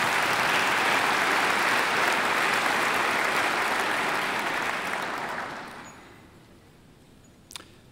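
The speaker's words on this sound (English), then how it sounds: "You can clap if you have." A church congregation claps together, a loud sustained burst of applause that tapers off over about five seconds into near quiet with a faint click near the end.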